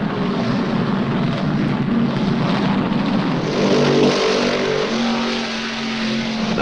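Stock cars roar around Darlington, with Cale Yarborough's Wood Brothers Mercury running up front; a dense, loud, sustained engine drone with a steady, slightly rising rumble and no voices.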